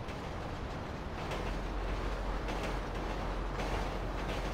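A passing train in the game GTA 5, heard as a steady, broad rumble and rattle of rail cars that holds at an even loudness throughout, with no talk over it.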